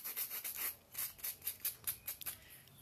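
Sandpaper rubs against a ball in quick, regular back-and-forth strokes, about a dozen soft scratchy passes heard close up with no voices.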